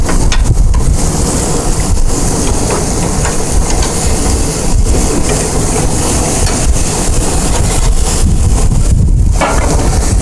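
Strong wind buffets the microphone beside an outdoor grill fire, a loud, constant roaring rumble with gusty bursts throughout.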